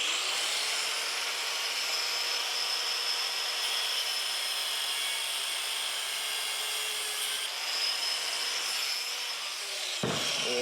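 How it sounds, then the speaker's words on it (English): A tool cuts through the outer cage that holds the rollers of a noisy bearing, producing a continuous bright, rasping grind that stays loud and steady for about ten seconds before a brief change at the end. "So now we're going to cut the outer cage that holds the rollers in."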